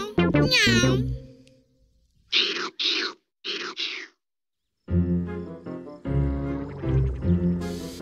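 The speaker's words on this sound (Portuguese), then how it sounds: "É um gato!" A cartoon cat meows in several short, bright calls, separated by gaps of silence, alternating with a child-like voice talking in a cartoon show.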